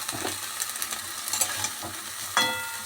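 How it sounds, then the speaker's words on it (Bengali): Cauliflower florets stirred in a wok of hot mustard oil with five-spice seeds, dried chillies and bay leaf, giving a steady close sizzle with scraping stirs and a sharper clatter near the end. "এবার আমি ফুলকপিগুলোকে একটু কড়াইয়ের মধ্যে দিয়ে নাড়তে থাকি।"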